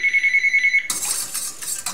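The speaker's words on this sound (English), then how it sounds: "makes the phone ring." A telephone ringtone pulses in quick repeated electronic beeps for under a second, then stops abruptly and gives way to rustling handling noise.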